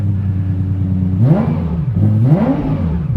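A Lexus LFA engine idling with a steady low hum, then revved sharply twice, each blip climbing quickly in pitch and falling back, loud and close.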